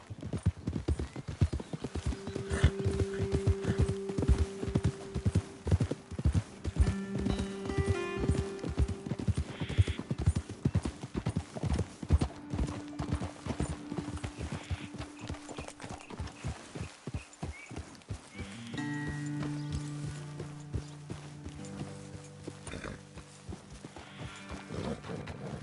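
Rhythmic hoof clip-clops trot along steadily in Red Dead Redemption 2, close and clear, with a low background tone and occasional soft voices.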